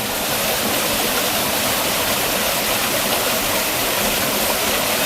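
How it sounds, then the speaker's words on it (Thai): Waterfall at Chan Ta Then in Bang Phra, Si Racha, Chonburi, Thailand, pouring steadily in a dense, continuous roar of rushing water, close and loud with no break for the whole stretch. "น้ำตกชันตะเถียนนะครับตำบลบางพระอำเภอศรีราชาจังหวัดชนบุรี"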